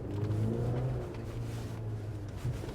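A 2023 GMC Canyon pickup truck engine revving while holding a gear, a steady mid-pitched drone heard from inside the cab, rising slightly in intensity before settling.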